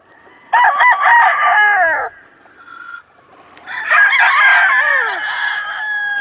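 Two loud, close crows from a gray broodstag rooster, son of a Harold Brown Gray stag, separated by a brief pause. Each call is a long, drawn-out cock-a-doodle-doo.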